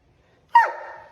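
A single sharp dog bark close by, trailing off into a short breathy whine.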